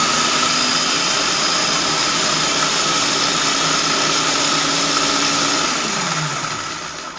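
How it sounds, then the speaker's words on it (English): An electric mixer whirring through raspberries, sugar and cream cheese for keto cheesecake fat bombs, a loud steady motor drone that winds down and slows near the end, with no voices. "I'm going to mix that up before I add the cream cheese in."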